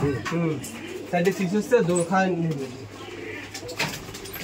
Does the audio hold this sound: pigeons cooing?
yes